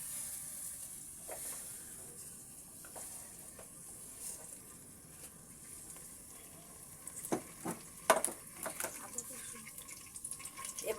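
Oil poured into a hot pot on low-to-medium heat, making a faint, steady sizzling hiss, with a few louder clinks and crackles toward the end.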